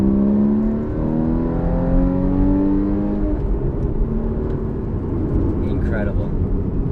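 A Porsche Cayman engine revs up with rising, sweeping harmonic tones, then settles into a steady throaty drone with a few burbles near the end, heard close and loud from inside the car.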